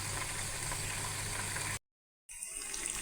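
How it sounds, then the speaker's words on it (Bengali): Slices of bitter gourd fry in a pan with a steady, close sizzle that cuts out briefly and then resumes. "কিভাবে ভাজাটা দারুণভাবে ফ্রাই হচ্ছে"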